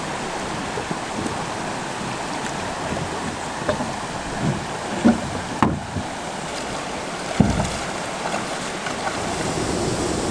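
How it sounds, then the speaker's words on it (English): A waterfall and rapids on a river in Algonquin Park: a broad, steady wash of rushing water at moderate level, with occasional knocks and thumps over the continuous roar. "Another nice waterfall."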